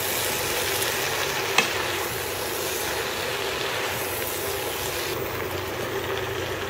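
Chop suey vegetables being stirred in a hot pan, a loud continuous sizzle and frying hiss with a sharp utensil clink near the start.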